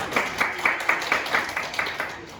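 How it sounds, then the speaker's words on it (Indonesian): Classroom of students clapping for a classmate in an Indonesian language lesson, a short bout of fairly rhythmic, moderately close applause with distinct regular clap peaks that fades toward the end. "Kita berikan tepuk tangan."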